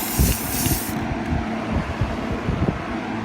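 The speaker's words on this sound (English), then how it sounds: "This is what we're going to clear coat with. We're going to take this, and we're going to spray over it." Aerosol clear coat sprayed onto a tumbler, a steady close hiss that opens with a brighter burst of spray during the first second, then continues as a softer rushing hiss without talk.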